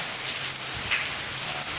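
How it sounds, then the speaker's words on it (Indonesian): Heavy rain pours down over Darul Imarah in Aceh, Indonesia, a dense steady hiss of falling water with no voices heard. "hujan lebat deras sekali mengguyur wilayah Kecamatan Darul Imarah dan sekitarnya"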